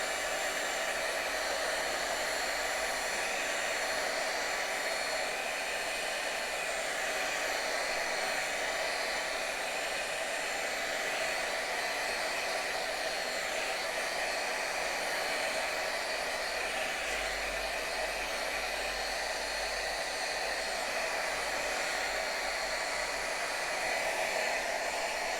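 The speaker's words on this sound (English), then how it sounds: "Let's just have a little go with a heat gun and see if that makes any difference." A heat gun blows over glossy card stock dusted with powders, a loud, steady, unbroken whooshing roar that holds constant from start to finish with no talking.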